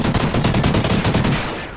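Rapid automatic gunfire from the video game Call of Duty: Ghosts, a dense unbroken burst of close, loud shots lasting under two seconds before trailing off.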